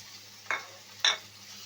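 Chopped onion and crushed garlic fry in oil left from frying fish heads, with two short bursts of stirring scrape and sizzle over a quiet background hiss.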